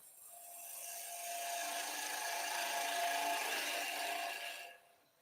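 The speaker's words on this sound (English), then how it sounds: "we dig the heel into the edge of the wood. And I'm cutting." A woodturning tool cutting into a spinning wood blank on a lathe, a close, rising then steady scraping rasp with a whirring tone, cutting off abruptly near the end, with no talk.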